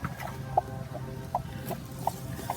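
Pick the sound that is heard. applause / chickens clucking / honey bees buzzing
chickens clucking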